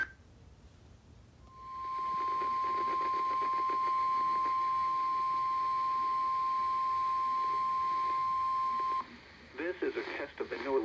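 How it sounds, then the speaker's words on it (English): A single loud, steady electronic weather radio warning alarm tone, a weekly NOAA Weather Radio test for station WXL37, sounds continuously for several seconds, then cuts off as broadcast-style audio resumes. "This is a test of the NWR Radio Warning Alarm Device for WXL37."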